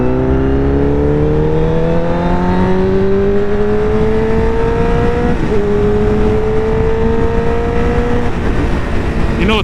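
A 1000cc motorcycle accelerating in third gear under light throttle, its engine note climbing steadily in pitch with a brief dip at a shift, loud and close, with rushing wind noise and no talk.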